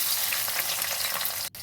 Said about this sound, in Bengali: দারচিনি আর গোটা গোটা গরম মশলা দুটো দিয়ে আমি এখন পেঁয়াজটাকে ভেজে নেব।